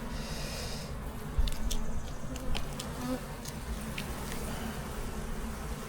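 Honey bees buzz steadily around an opened beehive during a hive inspection, a continuous close insect drone with a few brief louder passes and faint handling noises.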